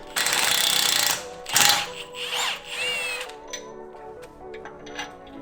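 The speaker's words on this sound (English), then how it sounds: "So we're going to loosen this bolt up all the way." A power tool whirs in a sustained burst while loosening a bolt on a VW GTI or Golf R axle hub, then shorter bursts and metallic ratcheting and clinks follow, close by with no talking.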